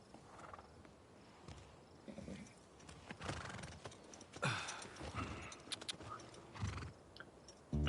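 In the video game The Last of Us, a horse neighs and snorts while its hooves clop intermittently, the sounds coming in uneven bursts at modest volume.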